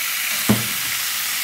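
Marinated beef short ribs sizzle steadily on a grill, a loud, close, continuous hiss of frying fat, with a brief clunk and a short tonal scrape as the meat is turned partway through.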